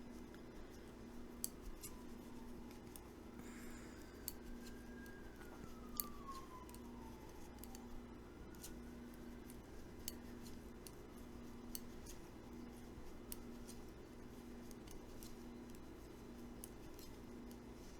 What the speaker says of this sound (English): So when I get to the blue, I'll snip the blue.